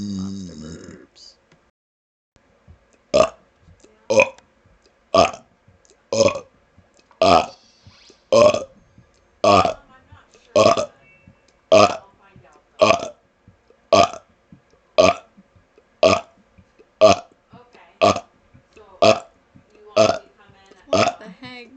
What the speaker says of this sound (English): Monster burps.